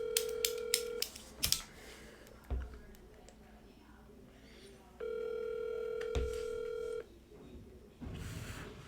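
A telephone call rings out as two long electronic ring tones separated by a pause, with key beeps and clicks at the start.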